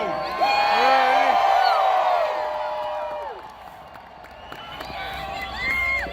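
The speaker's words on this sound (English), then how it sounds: "What an incredible crowd." A large political rally crowd at Brooklyn College cheers and whoops loudly, a dense roar of voices with shouts rising over it, fading somewhat midway and swelling again toward the end.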